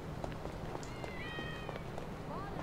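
Cats meowing in the video game GTA V, a few short rising meows standing out over a soft, low background, with a voice imitating the meow.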